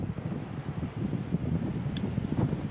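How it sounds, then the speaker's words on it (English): Strong wind buffets the microphone at a hilltop lookout on Cape York, a low, rumbling roar with gusty surges that runs continuously with no voices. "It's heaps windy."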